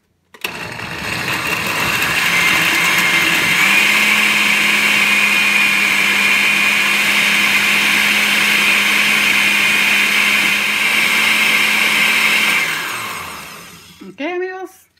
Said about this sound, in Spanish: Ya que tenemos todo en la licuadora, vamos a licuar todo.